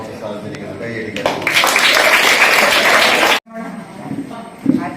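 An audience bursts into applause for about two seconds, loud and dense, then stops sharply; a speaker's voice is heard before and after the clapping.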